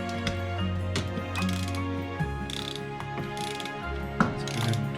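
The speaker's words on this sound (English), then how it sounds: "Let's go ahead and torque it down." A dialed-in torque wrench ratchets while tightening an elevator assembly to a low torque setting, giving repeated close clicks in short bursts and a few sharper metallic ticks, with no talking.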